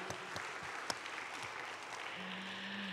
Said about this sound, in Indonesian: kami memberi satu tepukan gemuruh ya untuk menghargai